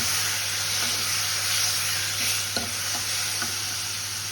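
Tomatoes dropped into a hot frying pan for a Tamil mixed-vegetable dish sizzle with a steady, close hiss, while a spoon stirs with a few soft scrapes and taps through the frying.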